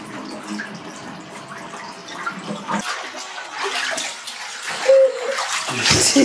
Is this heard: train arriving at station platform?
no